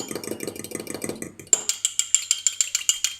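Egg wash with a pinch of salt beaten briskly in a bowl, first a busy scraping whisk, then a clear run of regular rhythmic clinks close by, alone without talk.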